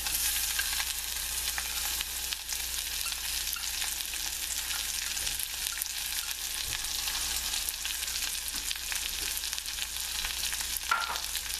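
Spinach and onions fry with crisp bacon in a pan, a steady, close sizzle and crackle running throughout with no talking.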